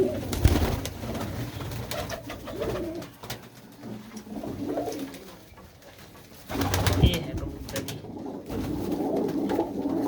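Pigeons cooing in a loft, repeated low throaty coos in bursts from several birds nearby, with scattered wing and shuffling noises and someone talking at times.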